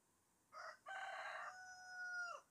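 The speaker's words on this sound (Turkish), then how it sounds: "Horozum size günaydın diyor." A rooster crows once in a backyard garden coop: a brief opening note, a short gap, then a long drawn-out call that rises and trails off, fairly faint and heard alone.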